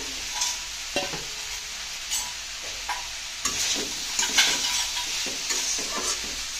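Prawns going into a pan of boiled greens stalks bring a steady, close sizzle with scattered spatula scrapes and small clinks that bunch up as they are stirred in, without any talk.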